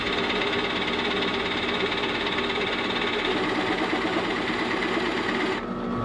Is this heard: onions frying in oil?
no